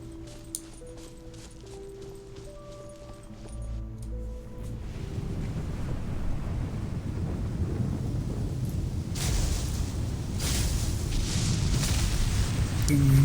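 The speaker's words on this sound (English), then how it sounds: "You flee from the storm together with Paimon." A thunderstorm in the video game Genshin Impact, with a low roaring rumble and rain-like wash building steadily after quieter music, loud and continuous through the second half.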